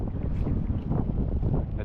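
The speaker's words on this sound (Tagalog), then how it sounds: "Saka hangin, ang lakas na rin." Strong sea wind buffets a fishing boat, a constant roaring gust over the microphone with rushing water beneath, loud and close throughout.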